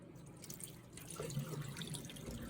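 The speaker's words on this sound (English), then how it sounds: "usually with basmati, I do about 5 to 6 washes" Basmati rice being washed in water under a running kitchen tap, with steady running water and soft splashing and sloshing of grains at close range, no talk.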